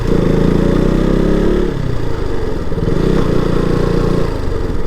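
A motorbike engine idles loud and close with a steady low throbbing chug, the tone dipping briefly midway as the bike is brought to a stop at a hilltop viewpoint in Kallakurichi, Tamil Nadu; no voices.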